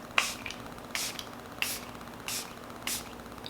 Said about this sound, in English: Let me spray my mist.